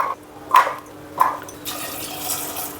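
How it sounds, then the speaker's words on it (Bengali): Peeled jackfruit seeds being rinsed in water: two short splashy pours at the start, then a continuous running-water wash, close and without talk. "এখন আমি জল দিয়ে ধুয়ে নিচ্ছি ভালো মতে"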